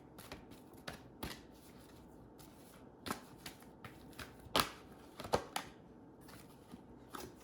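Tarot cards riffle and slap softly as they are shuffled and drawn from a deck, a run of crisp, irregular flicks and taps, close and quiet, with a few sharper snaps toward the middle.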